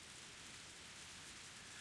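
Steady rain pattering on a rooftop and splashing into puddles in a downpour at a bus stop in Higurashi When They Cry: Meakashi, a soft, even hiss with no breaks, faint and alone.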